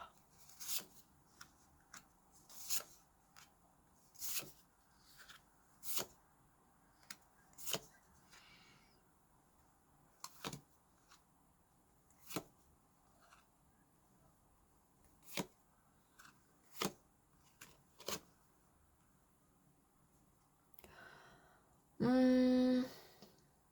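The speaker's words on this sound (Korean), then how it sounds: "이번에는 회색곰님 카드 펼쳐볼게요" Tarot cards are laid out one by one on a table, giving soft, sharp slaps and sliding taps spaced every second or two in a quiet room, ending with a brief louder rustle.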